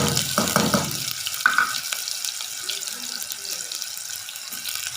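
Onions dropped into hot oil in a pan, a soft continuous sizzle with a few brief clatters early on, steady and fairly quiet throughout.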